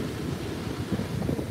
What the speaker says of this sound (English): Here's the ocean.